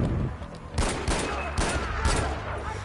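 Sniper gunfire in the video game Far Cry 4, a burst of loud, close shots with one early crack followed by four evenly spaced heavy booms over a dense, noisy battle backdrop.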